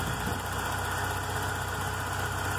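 Volkswagen Golf Mk3 engine idling while still warming up, a steady, even hum with no changes in pitch or rhythm, heard close and alone.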